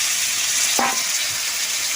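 Potatoes fry in hot oil left over from frying beans, giving a loud, constant sizzle with one brief clink of a utensil partway through.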